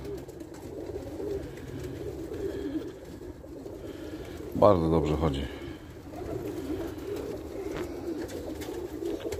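A single homing pigeon coo, a brief low throaty burst, rises over steady background murmur while someone talks nearby.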